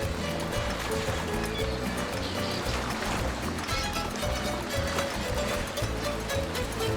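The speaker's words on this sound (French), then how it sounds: "Le bruit des vagues, la belle musique." Steady ocean waves washing on a tropical shore in the Tropico 5 video game, a continuous loud rush blended with background game music throughout.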